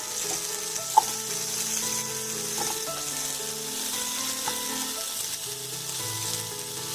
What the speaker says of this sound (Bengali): আলুগুলোকেও লাল লাল করে ভেজে নেব।